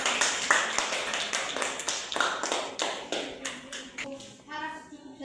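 A classroom of students claps together after a group presentation, a burst of brisk, uneven hand claps that thins out toward the end, with a few voices mixed in.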